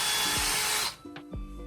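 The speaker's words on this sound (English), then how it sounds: "My drill's blunt as tips." Power drill with a blunt bit boring into the wooden frame of an IKEA cot, close by: a loud sustained whir that cuts off, followed by short bursts as the motor restarts.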